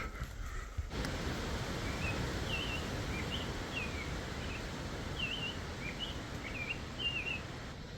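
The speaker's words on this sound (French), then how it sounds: "Un beau chant d'oiseau." Birds chirp outdoors in Newfoundland, a string of short, bright calls repeating at moderate distance over a steady rush of wind and rustling background.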